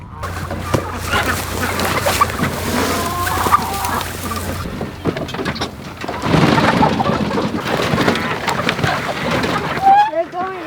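Hens and a tom turkey on a homestead, with scattered clucks and bird calls heard under people talking nearby, alongside rustling and handling noises throughout.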